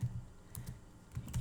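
Quick, light keystrokes on a computer keyboard, a short burst of close taps followed by a pause and a few more clicks, soft and near with no talking.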